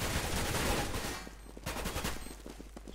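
Rapid gunfire in Counter-Strike: Global Offensive, a dense burst of automatic shots up close followed by sharper scattered single cracks and echoing reports.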